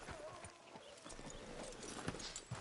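A horse's hooves clip-clop at a walking pace in the Red Dead Redemption 2 video game, faint irregular thuds in a town setting with low background ambience.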